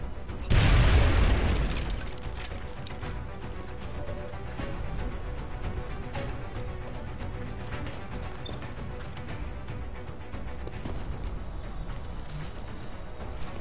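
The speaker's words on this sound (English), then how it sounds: "Throwing grenade!" A grenade blows up with a deep, loud boom in XCOM: Long War, and the blast tails off into a long rumbling decay over steady game ambience.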